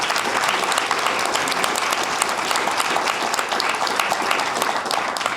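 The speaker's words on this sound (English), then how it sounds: "I was going to ask you to give them a big round of applause, but you obviously did not need that prompt" An audience at a school district's annual State of Our Schools event gives a group of students a big round of applause, with loud, continuous clapping that carries from start to finish.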